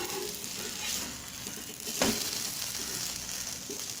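Chicken curry dosa frying in oil on a pan gives a steady soft sizzle, with a brief scrape of a spatula turning it partway through.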